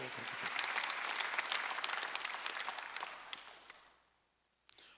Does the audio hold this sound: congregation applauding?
yes